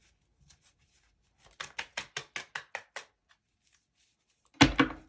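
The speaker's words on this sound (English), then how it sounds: "One more shuffle." A deck of tarot cards being shuffled: a quick run of about eight crisp riffling snaps in even rhythm, close by, followed by a single louder slap as the deck is squared, with no talk.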